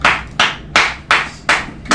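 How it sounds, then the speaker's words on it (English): Six slow, evenly spaced loud hand claps from a small group of esports players, close and sharp with a short decay after each, nothing else heard between them. "give ourselves a round of applause for trying hard"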